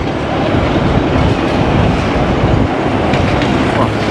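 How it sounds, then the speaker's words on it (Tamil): A train rolls past on a railway line in Colombo, Sri Lanka, loud and close, with a dense continuous rumble and rattling wheel clatter throughout. "மரன் ரோட்டில் வந்தாலே இந்த ட்ரெயின் போடுறது அதில் பார்க்க உங்களுக்கு நல்லா இருக்கும் அடிக்கடி ட்ரெயின் போகும்"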